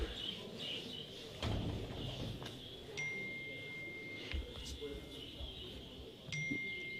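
A phone gives a few short, bright notification dings, fairly faint amid the murmur and clatter of an indoor bird show hall, with people talking in the background.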